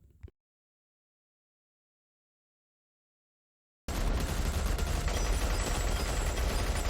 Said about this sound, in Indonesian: ia pun mengelabui para ajudan Pak Le yang memberondong senjata